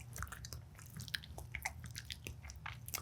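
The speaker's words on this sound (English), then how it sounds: "Move like if you had a gum and back in your teeth." Soft, close chewing and mouth squishes from a person working the jaw as if chewing gum during a voice exercise, a quiet irregular run of wet clicks and bites without speech.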